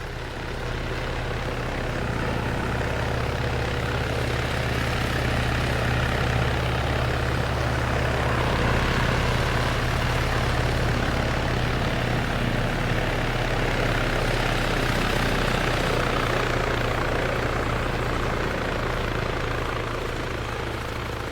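Military helicopter in the ARMA 3 video game, its rotor and turbine thrumming in a continuous loud drone that holds steady for the whole stretch with no voices over it.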